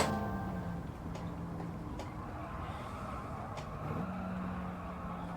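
A race car engine in the Gran Turismo 7 racing game drones steadily and loudly throughout, its pitch climbing near the end as the car accelerates out of a corner, with no talk over it.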